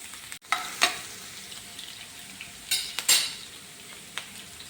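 Garlic and ginger fry in oil in a pan for a chicken roast, soft sizzling under a few sharp stirring scrapes and clinks of a spoon against the pan, close and without talk.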